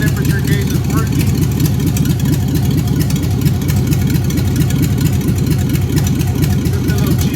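A 1956 Ford F100 with a swapped LS engine idles at a steady, loud, low rumble with a pulsing exhaust beat that holds constant throughout.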